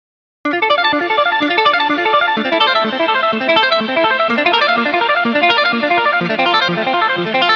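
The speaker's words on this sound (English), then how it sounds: "So for this first tone, I used the tape style delay." Clean electric guitar arpeggios from a Kemper ring out steadily, each phrase echoed by a warm, slightly wobbly tape-style delay from a Horizon Devices Flux Echo pedal that repeats the notes and blurs them together.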